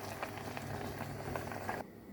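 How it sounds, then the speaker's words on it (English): A pot of water boils with Indomie instant noodles inside, a steady soft bubbling and popping with scattered small pops, close and fairly quiet, cutting off near the end. "cover it and give it some time to boil"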